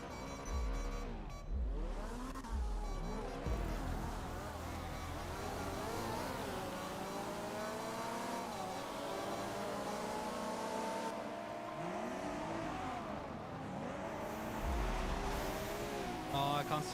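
Racing car engines in the video game NightZoom rev and whine up and down repeatedly, with rising and falling pitch sweeps as gears shift, loud and continuous with occasional low thumps.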